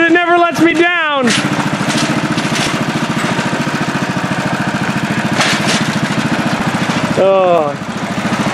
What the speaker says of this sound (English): The little John Deere is doing its job.